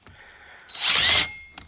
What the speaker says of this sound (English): I'll be able to drill holes in the ply or the 2x4